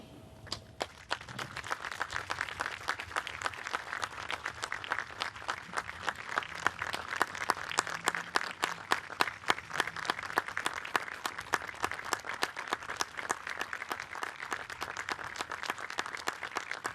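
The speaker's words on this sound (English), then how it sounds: "we ask if you are able to please stand and join us in a moment of applause for Rado" Stadium crowd at an A-League match between Melbourne City and Western Sydney Wanderers applauding in tribute to Rado Vidicic, a dense, sustained wash of many hands clapping that holds steady and loud throughout with no talk.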